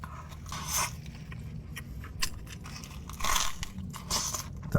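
Biting into a crunchy Papa John's straight-cheese pan pizza: a few close, crisp crunches and scrapes in quick succession, with no talking.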